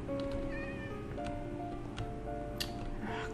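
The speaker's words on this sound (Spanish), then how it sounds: "Cállese, gato feo." Cat meowing in Minecraft, several short game meows scattered over a low ambient background without speech.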